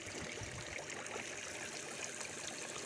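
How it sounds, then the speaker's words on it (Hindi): A high-pressure spray from a shower attachment on a kitchen tap makes a continuous, even hiss of rushing water, close and alone with no voices. "ये देखें शावर की तरह हाई प्रेशर मिलेगा"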